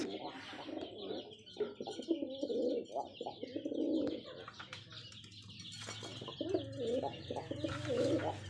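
Rajshahi Giribaz pigeons cooing close by, repeated throaty rolling coos in bursts with brief chirps and a flutter of wings, over a low steady hum.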